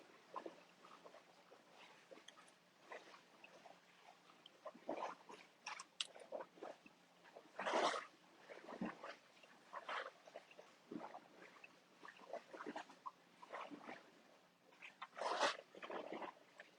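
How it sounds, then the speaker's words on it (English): A dog makes quiet snuffling, chewing and soft whimpering noises at close range, irregular and fairly faint, with a few louder bursts and no speech. "Yanni and the doggy, Nina."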